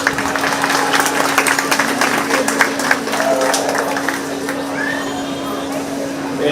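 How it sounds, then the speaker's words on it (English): Crowd claps at a 4-H/FFA sheep show at the Shelby County Fair, a loud dense patter over a steady low hum, with voices murmuring through it and the clapping easing toward the end. "Let's give them a big round of applause."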